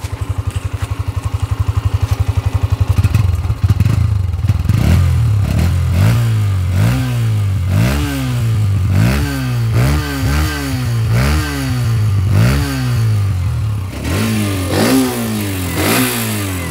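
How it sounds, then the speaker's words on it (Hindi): Hero Xtreme 125R motorcycle, 2024 model, with its engine idling steadily before being blipped in a run of sharp, rhythmic revs that rise and fall repeatedly, loud and close with no talking. "इसका आइडलिंग साउंड है ये"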